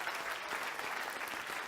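An audience breaks into applause, a dense steady patter of clapping that holds at an even level throughout.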